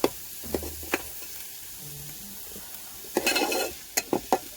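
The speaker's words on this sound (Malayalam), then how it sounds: "അപ്പോൾ പച്ചമുളക് ഉള്ളി കൂടി നന്നായിട്ട് വഴറ്റിയെടുക്കും കേട്ടോ" Green chilies and onions sauté in a pan in a Kerala village kitchen, a close steady sizzle broken by spatula stirs and several sharp scraping clinks against the metal, with a brief bit of talk near the start.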